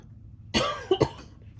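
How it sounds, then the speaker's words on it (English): A single raspy cough followed by two quick smaller coughs, close and fairly loud, with quiet room noise around it. "there's that cough."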